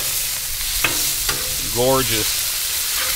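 Prime rib burgers sizzle loudly and steadily on a Blackstone griddle after being flipped, with a brief spoken remark over the hiss.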